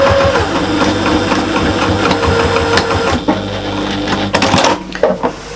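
Sewing machine back stitching along fabric edges to join them into a wrap, a steady close mechanical whir with rhythmic needle pulses and small stops and starts near the end.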